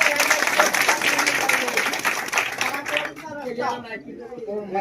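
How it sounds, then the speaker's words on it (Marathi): Villagers at a rural election campaign meeting clap together in a dense burst that fades after a few seconds, giving way to someone speaking through amplification. "साहेबांसाठी टाळ्या वाजवांना आपण"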